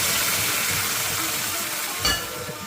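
Dried red chilies and curry leaves tempered in hot oil for poori masala, heard as a loud, steady, close sizzle and hiss. A brief splash and burst of frying comes as the tempering is poured into the masala.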